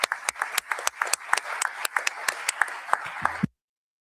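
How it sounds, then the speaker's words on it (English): Sparse applause from a conference audience after an AI, security and ethics panel, with a handful of distinct claps in a loose rhythm that stop abruptly. "please join me for a round of applause for the speakers"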